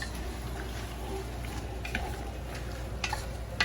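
Onions seasoned with kosher salt and black pepper are pushed around a hot pan, giving a soft, steady sizzle with faint scraping strokes throughout.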